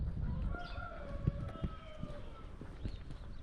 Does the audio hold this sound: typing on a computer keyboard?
no